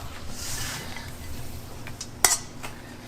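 Soft clatter of a utensil scraping and tapping on a plate as stir-fried anchovies are moved onto it, with one sharper clink near the end against a low hum.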